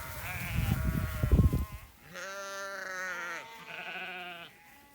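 Hogget ewes bleat on a farm, with a rough, loud bleat near the start and then two long, wavering bleats close by, with no talking.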